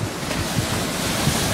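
Ocean waves breaking at Corona del Mar beach, a steady broadband roar of surf with wind buffeting the microphone, loud and continuous throughout.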